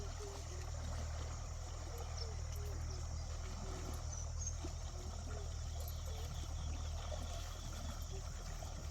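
River water flows steadily past where cattle are being washed in a village stream, a low, continuous rushing murmur with no breaks, fairly quiet and unaccompanied by talk.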